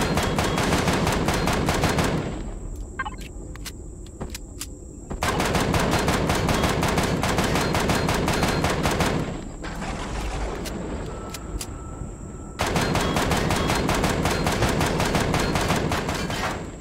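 Turret gunfire in the sci-fi game Empyrion, long loud bursts of rapid automatic shots broken by short pauses, with quieter stretches of lighter firing in the gaps.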